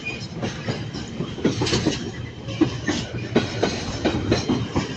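A freight train rolls through Manchester Piccadilly station, a loud continuous rumble with a rhythmic clickety-clack of wheels over rail joints and occasional metallic squeals, heard close with no talking.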